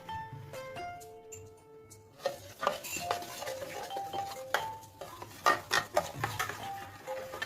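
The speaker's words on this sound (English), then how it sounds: "Then we have to mix it well with a spoon." Spoon clinking and scraping against a bowl while mixing chocolate cake batter with ghee, irregular metallic taps and rattles close up, with sparse ringing tones in the background.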